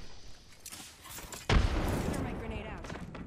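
A frag grenade blast in Apex Legends, a sudden loud boom that trails into a rumbling decay amid game noise.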